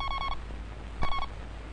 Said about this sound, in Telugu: ఉండండి ఫోన్ వచ్చింది చూసొస్తాను